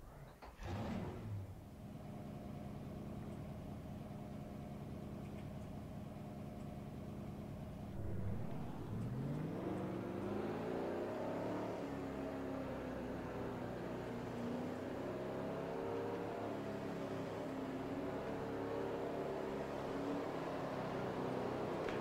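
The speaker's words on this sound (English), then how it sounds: "Drivers, start your engines!" Several ARCA stock car engines in NASCAR Racing 2003 at Atlanta sit at a steady idle, then swell into a loud layered roar around eight seconds as the field rises in pitch and pulls away, continuing as a sustained drone.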